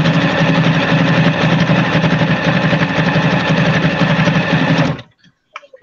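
A sewing machine runs continuously with a loud, close, rattling mechanical whir for about five seconds while finishing a baby rag quilt, then stops abruptly, leaving near silence.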